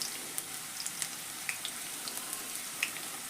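Curry leaves sputter in hot oil for tempering, a soft steady hiss dotted with small sharp pops and crackles, fairly quiet and with no voices.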